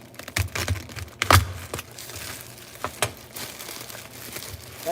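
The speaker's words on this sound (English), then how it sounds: "literally take my broccoli, and I cut it right there in the bag" Knife slicing through broccoli inside its plastic bag in a home kitchen, close irregular crinkling of plastic and crunchy cuts, with one sharp louder chop among scattered smaller snaps.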